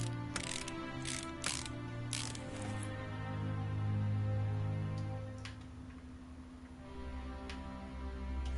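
Ratchet in the Car Mechanic Simulator game tightening two bolts on a car's suspension, a run of quick mechanical clicks near the start, followed by steady low machine hum with occasional faint ticks.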